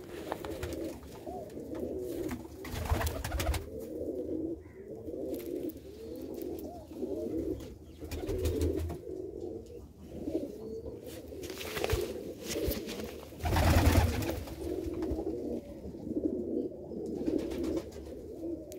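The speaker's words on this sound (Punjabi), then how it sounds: "ਅੱਜ ਤੁਹਾਨੂੰ ਇੱਕ ਟੈਡੀ ਕਬੂਤਰੀ ਦਿਖਾਉਂਦੇ ਆਪਣੇ ਇੱਕ ਫਰੈਂਡ ਦੀ ਆ" A teddy pigeon hen coos in a steady run of repeated throaty calls close by, broken by a few brief rustling bursts.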